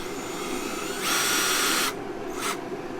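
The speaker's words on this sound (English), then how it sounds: "Then you're gonna countersink it a little bit." Power drill countersinking a hole during a sled build, two short whirring bursts, the first about a second long and the second brief, close-up over quiet background.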